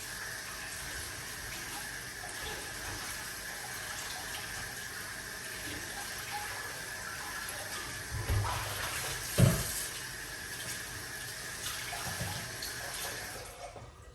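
Tap water runs steadily from a kitchen faucet while garlic cloves are rinsed for a green apple colon-cleanse drink, a constant hiss with a couple of brief splashes and knocks near the end.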